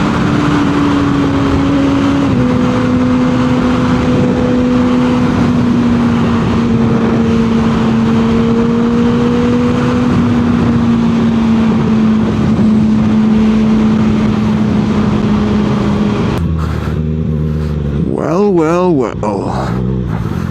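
A Kawasaki ZX6R motorcycle rides through downtown Charleston. Its loud engine drones steadily with wind buffeting throughout, then the tone shifts and wavers near the end.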